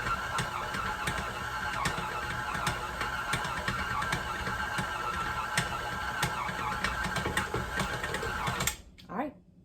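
An electric stand mixer works a stiff gingerbread cookie dough, whirring and rattling steadily for several seconds with rhythmic knocks as the machine shakes, then winding down abruptly near the end. A voice talks over the running motor.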